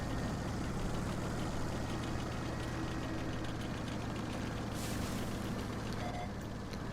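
A tank engine drones steadily as the tank races forward in World of Tanks, a loud, continuous low rumble that holds unbroken throughout with no pauses.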